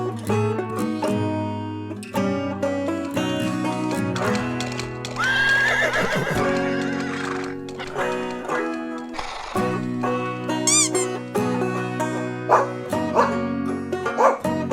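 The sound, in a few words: horse neighing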